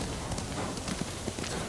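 A horse's hooves clip-clop steadily in the video game Ghost of Tsushima. The rhythmic footfalls come at moderate volume against a dense ambient bed, with no voices.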